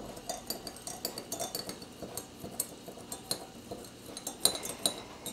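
A spoon clinks and scrapes against a bowl as liquid is stirred for dumpling dough, a quick run of close metallic taps and rattles with no talking.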